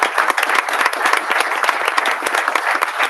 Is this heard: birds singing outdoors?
no